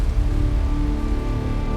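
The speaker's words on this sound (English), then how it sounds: "Today we have a very hard condition, we have heavy rain." Heavy rain falls at the Portimao race track as a loud, steady wash of noise that runs unbroken throughout, with a low rumble beneath and no voices.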